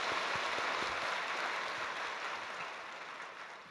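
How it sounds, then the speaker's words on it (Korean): A church congregation applauds together at a Christmas Day service, a steady broadband patter of many hands clapping close and loud, slowly thinning toward the end with no voices over it. "우리 박수 한번 하겠습니다."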